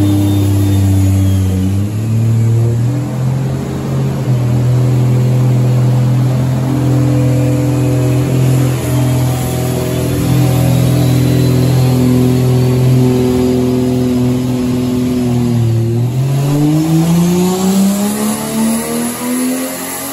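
A 700-horsepower Lexus SC300 running on E85 revs hard on a dyno, its engine note climbing steadily through the gears in long loud pulls, close up and with no talking.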